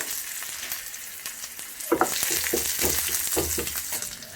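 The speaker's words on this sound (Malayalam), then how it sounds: "ഒരു തണ്ട് കറിവേപ്പില ഇട്ട് കൊടുക്കുന്നു. 1/4 ടീസ്പൂൺ ഇഞ്ചി ഇട്ട് കൊടുക്കുന്നു." Curry leaves and ginger hit hot oil with a sudden loud crackling sizzle that jumps up midway and then keeps spitting steadily, close by, with no talk.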